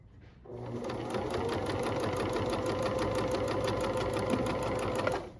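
A sewing machine runs top stitching along a fabric edge, a steady rapid mechanical chatter with even rhythmic needle ticks, close and continuous for about five seconds with no speech over it.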